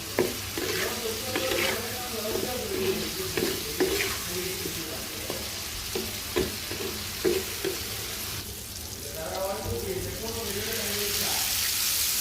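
Shrimp sautéed in hot oil, bhuna style, crackle with a bright, continuous sizzle while a spatula scrapes and stirs in repeated close strokes, loudest in the middle and settling into a smoother hiss at the end.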